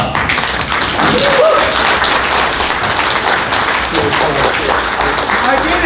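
A workshop audience applauds steadily throughout, dense clapping filling the room with some chatter mixed in.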